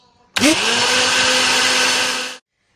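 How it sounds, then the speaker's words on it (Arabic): An electric blender mixing eggs and sugar whirs loudly at steady speed for about two seconds, starting abruptly with a rising whine and cutting off cleanly. "هو فكره ان انا اضربه في الخلاط ان انا اتاكد بس ان السكر داب معايا كويس"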